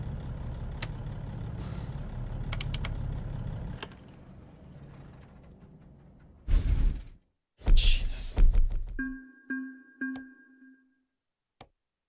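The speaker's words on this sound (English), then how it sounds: "I might even need a trailer brake for this one." Truck air brakes in American Truck Simulator: engine rumble fades, then several loud sharp hissing bursts of released air follow in quick succession, ending with a few short tonal beeps.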